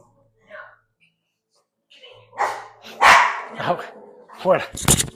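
Several dogs bark and yip indoors in a house, with sharp, close barks coming in quick bursts, mixed with people talking and whispering.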